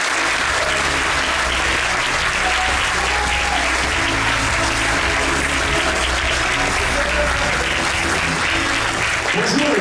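Sustained audience applause fills a large hall at an opening ceremony in Monaco, steady and dense throughout with no pauses, greeting a guest of honour.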